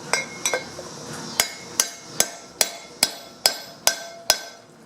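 Sharp metallic hammer strikes on a brass drift seating a trailer wheel bearing race ring out at a steady rhythm, about a dozen close, bright clinks with short ringing tails and no talking.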